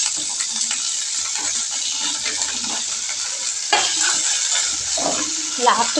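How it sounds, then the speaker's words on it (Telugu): Green chillies, onions and tomato fry in oil for a mixed leafy greens chutney, a loud, close, steady sizzle broken by occasional stirring scrapes. "ఇప్పుడు ఆనియన్స్ విత్ టమాటా వేసుకుందాం. ఇవి కూడా ఫ్రై అయితే"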